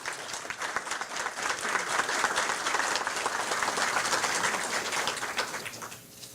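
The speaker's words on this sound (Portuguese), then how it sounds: "o nosso queridíssimo Oscar Pires, novamente aplaudido, tenho certeza." An audience applauds an honoree at a regional development medal award ceremony held by FIRJAN. The clapping is dense and sustained, building slightly and then tapering off near the end.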